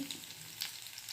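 Garlic frying in hot ghee along with urad dal, chana dal, mustard seeds and cumin, a soft steady sizzle with faint crackles and small pops throughout a brief moment, no voices.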